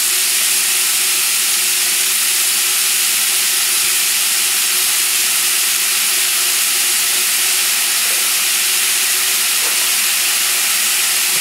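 Potatoes sizzling in a hot pan with sweating aromatics for brown rice with lentils, a dense steady hiss that stays loud and unbroken throughout, with no talking.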